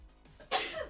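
A single short sneeze bursts out indoors, faint and close, after a moment of near quiet.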